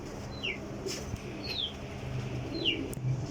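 A pigeon being handled, with a few brief chirpy calls and soft wing flutters against a steady background hum, fairly quiet throughout.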